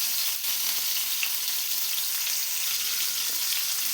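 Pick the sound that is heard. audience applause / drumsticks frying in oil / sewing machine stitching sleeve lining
drumsticks frying in oil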